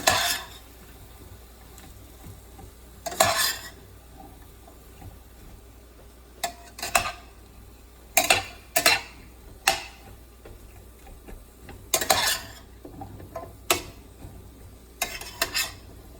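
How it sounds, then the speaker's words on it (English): Cauliflower and potato curry being stirred in a pan, with a series of separate sharp scrapes and clinks of the utensil against the pan over a faint background hush. "And once the cauliflower is added, I'm going to give it a good stir."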